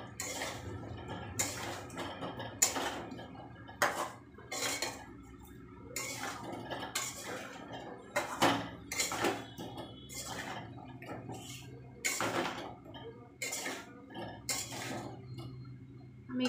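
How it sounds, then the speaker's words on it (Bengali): Utensil scraping and clinking against a cooking pan as food with turmeric powder is stirred, a steady run of sharp repeated strokes over a low background hum, close by with no talk. "এবার ভালো করে নাড়াবো।"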